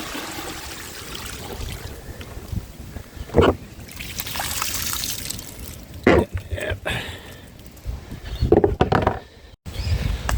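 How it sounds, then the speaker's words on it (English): Water hose blasting through the rusty fuel system of a barn-find Jaguar S3 V12, a steady rushing gush with sharper bursts of spray, close by and continuous. "Second blast with the hose."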